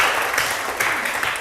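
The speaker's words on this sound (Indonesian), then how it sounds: "tepuk tangan semuanya" A class audience applauds at the close of a lecture, a brief, dense wash of clapping that stays fairly even and moderately loud throughout.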